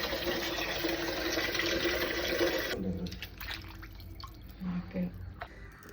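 Raw chicken pieces are washed in turmeric water, a steady splash and trickle that stops partway through, followed by faint, scattered drips and handling noises.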